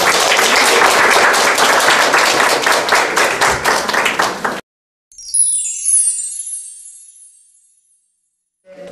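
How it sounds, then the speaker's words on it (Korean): Audience applause welcoming a professor onto the stage at a village community conference keynote: dense, loud clapping for about four and a half seconds that stops abruptly, then a bright high ringing tone decays into near silence. "여러분들 큰 박수로 교수님 모셔보도록 하겠습니다"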